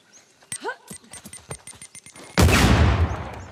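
A grenade from Uncharted: The Lost Legacy bursts in one sudden loud blast near the end, and a broad rumbling roar trails after it. Sharp clicks and thin tones from the game come first, with no voices.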